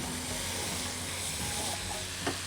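Glass noodles and celery are stir-fried in a pan, a soft steady sizzle with faint stirring and scraping and a small clink near the end.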